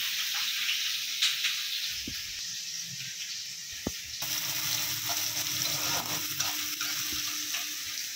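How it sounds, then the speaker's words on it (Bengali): Samosas fry in a pan of oil during evening cooking at home, making a continuous close hiss and crackle. A couple of sharp knocks and a brief shift in the sizzle come as they are moved about, with no talking. "সমোসা ভাজছি, যে সমোসা রেখে দিয়েছেন দুপুরে বানাইছি, ওইটা ভাইজা সমোসা নাস্তা দিচ্ছি"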